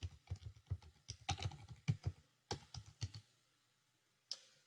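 A computer keyboard is typed on in quick irregular bursts of close, crisp keystrokes while a virtual machine is renamed, then falls silent before one last click.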